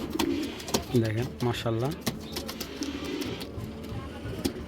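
Racing pigeons coo in a loft, two clear bursts of throaty, repeated coos close to the listener, with someone speaking briefly over them and a busy background.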